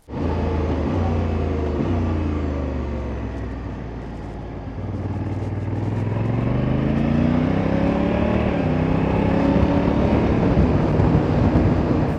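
A 2024 Honda Africa Twin CRF1100L with a DCT automatic gearbox pulls away and accelerates, its engine rumbling and rising in pitch through smooth gear shifts, heard up close with steady wind and road noise.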